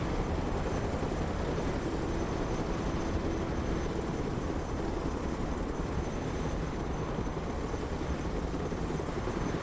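A Chinook helicopter's rotors in a video game give a steady, loud, unbroken drone that holds at the same level throughout, with no talk over it.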